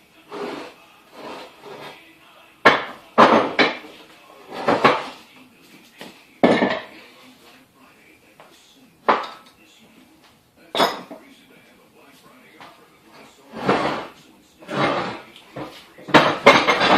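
A new vise is bolted onto a steel plate, with scattered metallic clinks, scrapes and clunks of bolts and parts being handled close by, separated by quiet pauses and some talking.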